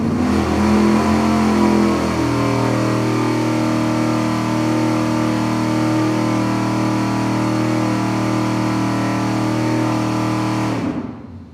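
V8 engine held at a steady 4,700 RPM on a dyno during an iron-versus-aluminum cylinder head heat test, a loud sustained droning roar with constant pitch that cuts off abruptly at the end.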